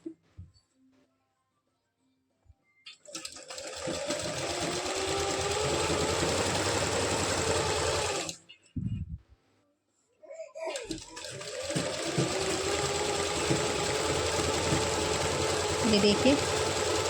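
A sewing machine runs along the seam of palazzo pants in two long, steady bursts of close whirring stitching, with a short break of fabric handling between them.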